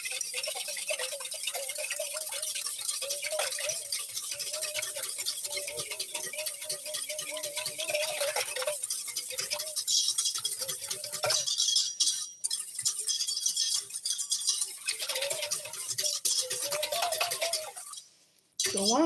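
An egg is whisked in a separate bowl for fresh fruit bread with raisin topping, giving a steady, fairly faint run of light ticking clinks against a continuous background hum.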